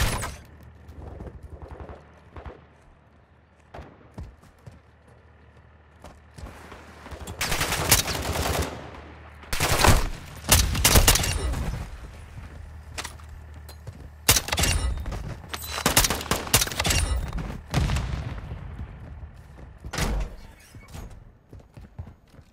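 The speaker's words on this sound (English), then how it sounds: "You are taking effective fire." Gunfire in the video game Call of Duty: DMZ, with a new Tempus marksman rifle in play, bursts of automatic fire and sharp single shots in clusters, some loud and close, with quieter stretches between.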